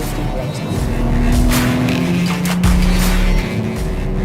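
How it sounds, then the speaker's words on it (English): A BMW M3 G80 braking hard into Hatzenbach on the Nürburgring, with engine roar dropping and downshift blips amid loud road and wind noise from inside the car. "Now it's on to the first exciting section, braking at Hatzenbach."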